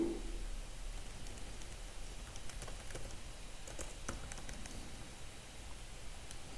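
Light typing on a computer keyboard while writing Java code, scattered quiet key clicks in uneven bursts over a soft steady background hiss, with no talking.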